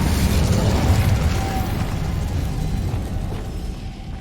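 Incendio fire spell cast in the Hogwarts Legacy video game: a loud, dense burst of roaring fire and explosive rumble that slowly fades over a few seconds.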